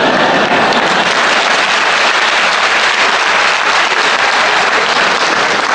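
Lecture audience breaks into loud, continuous clapping, a thick unbroken roar of many hands that stays at full strength throughout with no voices over it.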